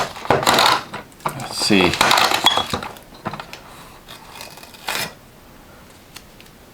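An Echomerx heat tape dispenser pulls and slices masking tape in a few sharp mechanical clicks and rasps, loud and close, with a brief spoken remark among them and quieter pauses after.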